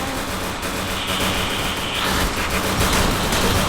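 Sustained rapid gunfire from the Free Fire battle royale game, a dense continuous burst of shots that holds loud and steady with a slight rise partway through, with no voices over it.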